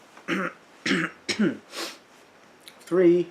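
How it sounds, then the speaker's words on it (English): Several sharp, harsh coughs in quick succession, close up, with brief pauses between bursts and a final heavier hacking cough. "So I just had a coughing fit off camera."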